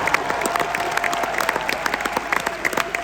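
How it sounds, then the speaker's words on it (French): A crowd at a live metal concert in a Nice arena claps continuously in a dense, fairly loud wash of applause, with faint scattered crowd noise mixed in. "on pourrait nous applaudir chaleureusement"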